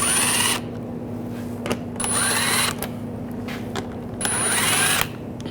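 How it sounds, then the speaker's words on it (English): Power tool fitted with a 7mm socket backing screws out of Volkswagen Tiguan trim, three close, loud whirring bursts separated by quiet pauses with faint clicks and handling noise. "Using a 7mm socket, take these screws out."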